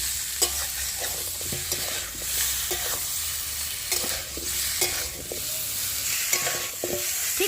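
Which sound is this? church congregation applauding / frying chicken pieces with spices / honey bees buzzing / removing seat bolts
frying chicken pieces with spices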